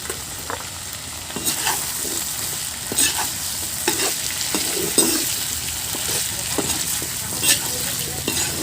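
Small diced potatoes frying in hot oil over a wood-fired clay stove, stirred with a ladle: a steady sizzle under repeated scraping strokes at an irregular rhythm, close and moderately loud, with no talking.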